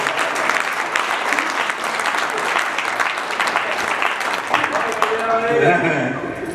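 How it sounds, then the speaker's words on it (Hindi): An audience at a Hindi poetry gathering bursts into dense, sustained applause, loud and close, holding steady for several seconds before thinning out near the end. "एक बार तालियां बजा लीजिए"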